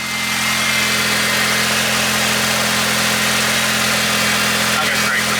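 Turbocharged BMW M43 four-cylinder engine idling with boost turned up, a steady loud rumbling drone with constant hum, close and continuous without talk.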